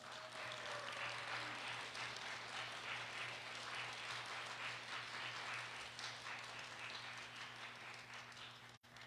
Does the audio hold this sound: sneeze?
no